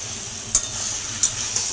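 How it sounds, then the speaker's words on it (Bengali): Taro greens fry in a pan with a steady close hiss, while a utensil stirring them knocks sharply against the pan three times. "আমি অনেকক্ষণ থেকে এটাকে নেড়ে যাচ্ছি আরও অনেকক্ষণ নাড়তে হবে"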